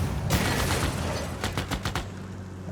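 A tank fires in Civilization VI, loud gunfire and booms layered over battle noise, with a rapid run of sharp shot-like cracks near the end.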